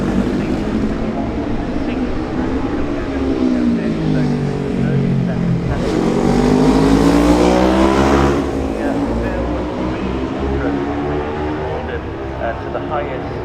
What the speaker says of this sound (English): The Hondas of Paul Williams, number 64, and Terry Tuttle, number 48, are next through.